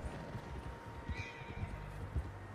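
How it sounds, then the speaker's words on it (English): Horses in Red Dead Redemption 2 clop along at a moderate distance, their hooves sounding faint and uneven over a steady background wash, with a brief whinny-like call in the middle. "Horses, quite a few of them."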